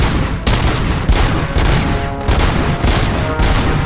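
Sustained gunfire in the Robocop Rogue City video game, aimed at the player: loud, continuous rattling volleys with brief gaps, close and dominant with no talk over it.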